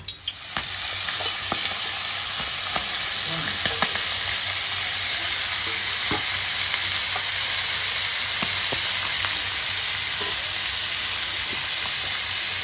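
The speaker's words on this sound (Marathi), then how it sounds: "हे बरे परतून भाजून घेऊया" Masala frying in hot oil gives a continuous, close hiss of sizzling, broken by scattered small pops and light stirring clicks that run steadily for the whole stretch, with no voices.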